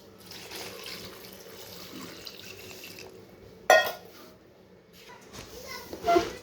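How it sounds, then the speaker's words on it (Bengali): Water pours into a blender jar holding wood apple pulp, making a soft, steady trickle at home. A louder splash comes partway through, and voices, including a child's, talk throughout. "এবার জল দিয়ে দিব।"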